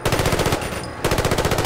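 Rapid automatic gunfire in Fallout 4, a loud close stream of shots that breaks off for a moment and then resumes.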